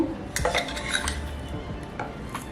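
Spoon scooping sugar into a bowl of henna powder while mixing henna cone paste, clinking scrapes and taps against the container, close and clear with no talk.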